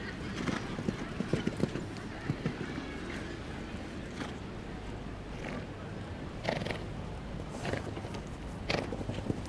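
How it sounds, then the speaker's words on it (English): A horse walks in a show jumping arena at the Royal International Horse Show, its hooves giving clear, repeated clip-clops with brief louder bursts, amid a busy arena with voices in the background. "And this is a lovely horse."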